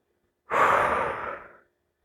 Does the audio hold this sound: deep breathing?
yes